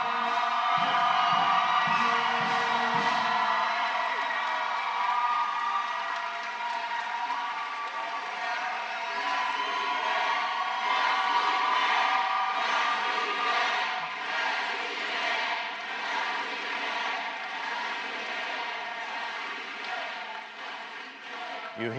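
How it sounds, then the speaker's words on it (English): Large crowd cheering at Barack Obama's farewell as he leaves office, a dense, sustained roar of massed voices heard from a distance, with a rhythmic swell that suggests the familiar "Yes, we can" chant. "You hear the familiar chant, "Yes, we can.""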